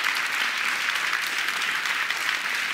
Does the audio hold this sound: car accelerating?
no